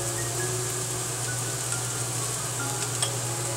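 Steady frying hiss from an omelette masala in a pan as turmeric is stirred in, with a low constant hum underneath and faint scraping throughout.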